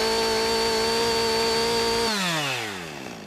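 A chainsaw engine held at full throttle screams steadily and loudly for about two seconds, then the revs drop away smoothly as it winds down toward idle.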